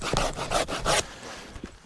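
A hand saw cuts firewood in a frosty forest for an upside-down campfire, several close, loud rasping strokes in quick rhythm that stop abruptly, leaving faint quiet.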